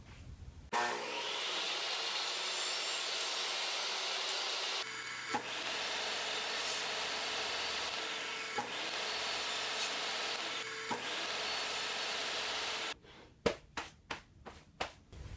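Wooden slat pieces for a lattice sculpture being cut, a long loud continuous rasping saw run broken by a few brief pauses, ending in a string of sharp knocks.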